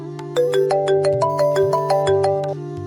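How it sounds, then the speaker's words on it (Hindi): Phone ringtone as a sound effect in a Hindi story: a bright melodic electronic tune of quick repeated notes plays clearly for about two seconds, with no talking. "उसी समय उसका फोन बजा।"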